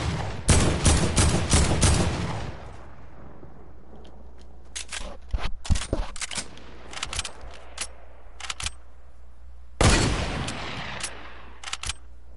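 AK rifle fire in a first-person shooter video game, coming as a dense, loud burst of rapid shots at the start, then scattered single cracks and short bursts, with another loud volley near the end.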